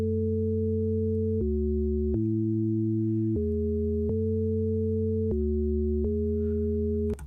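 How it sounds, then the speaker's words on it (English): A pure, smooth synthesizer sine tone steps between several steady pitches, each held for about a second, clean and focused with no other sounds. "For example, this is a sine wave."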